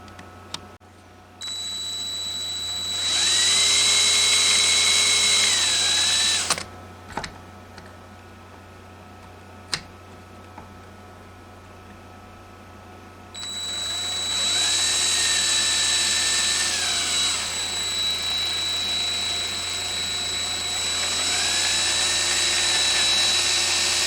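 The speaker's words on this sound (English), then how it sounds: "we'll drill that hole." A power drill whines in two long bursts while drilling a hole in a carbon fiber guitar, its pitch shifting as the bit bites, separated by quiet moments with a few light clicks and taps.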